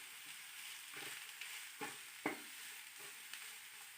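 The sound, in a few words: cabbage frying in a pan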